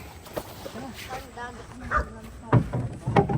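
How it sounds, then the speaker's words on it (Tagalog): A dog barks and yips at a riverside campsite, a few sharp barks mixed with short whimpering yips, heard close by under ongoing talk from several people. "May aso pa, Basti, oh."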